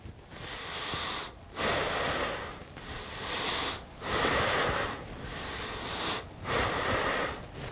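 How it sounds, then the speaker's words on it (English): Alternate-nostril yoga breathing, close and quiet, in a slow steady rhythm of about six airy nasal breaths, each inhale or exhale separated by a brief silent pause, with no talking. "Inhaling on one side, exhaling on the other, and I'll tell you when to switch your breath."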